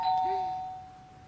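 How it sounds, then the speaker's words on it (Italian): A home doorbell rings with a short, clear electronic ding of bright sustained tones that fade over about a second, faint and alone in a quiet room. "Guarda che ho capito che è il campanello"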